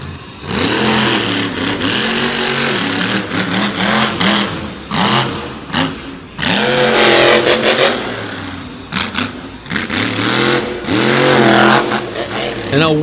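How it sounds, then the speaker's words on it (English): A big Ford drag racing truck's engine revs hard at an outdoor drag racing event in Canfield, Ohio, roaring loud and close with surging, uneven bursts through a sideways launch. "And a wild sideways launch for the big Ford out of Ohio."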